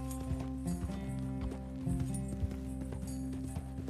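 Horse hooves clopping at a quick pace in Red Dead Redemption 2, a soft rhythmic patter of hoofbeats set against a steady droning game backdrop and faint background voices.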